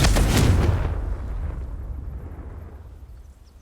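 A Confringo fire-blast spell explodes in Hogwarts Legacy: a loud, close boom erupts at once, then fades into a long rumbling tail that slowly dies away.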